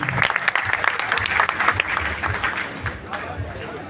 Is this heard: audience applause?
yes